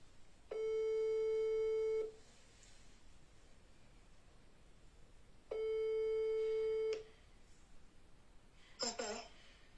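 A phone call being placed: two long ringback tones, each about one and a half seconds, sound in a quiet room, separated by a pause, with a short crackle near the end.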